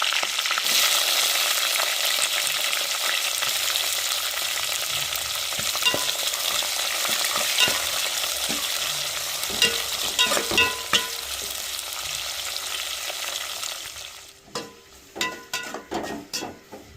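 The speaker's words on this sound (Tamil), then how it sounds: "வெங்காயம் பச்சை மிளகா வதங்கி வந்துருச்சு" Onions, green chilies and curry leaves sautéing in a pan make a loud, steady sizzle that fades toward the end, where scattered scraping and stirring clicks come through.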